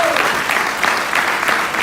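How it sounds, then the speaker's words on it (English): An audience at a religious gathering in a Los Angeles mosque bursts into sustained applause, many hands clapping in a dense, lively patter that stays loud for the whole short stretch. "let's give them all around of applause"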